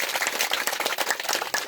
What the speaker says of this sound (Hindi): इसलिए उनके लिए आने की खुशी में तालियां हो जाएं